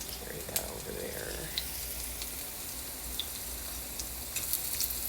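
Onion rings frying in a pan of hot olive oil, a steady close crackling sizzle with scattered sharp pops and faint clinks throughout.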